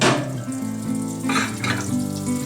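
Four ounces of butter melts in a pan over medium-high heat, giving a steady, close sizzle with a low bubbling hum underneath, alone with no talking.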